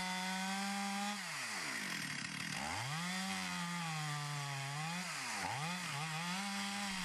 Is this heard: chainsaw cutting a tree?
yes